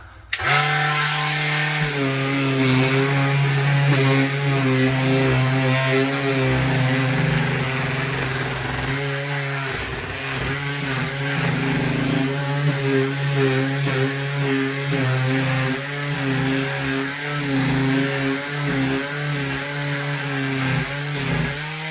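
Power sander working on a bathroom ceiling, a loud continuous motor whine with steady harmonic drone lasting throughout, close and uninterrupted, with no talk.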